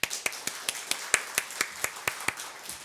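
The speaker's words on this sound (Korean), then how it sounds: "우리 연세 드신 분들도 젊은이처럼 다시 한번 박수하겠습니다." A church congregation claps together in a steady quick rhythm, about a dozen sharp, evenly spaced claps in unison ringing in the worship hall.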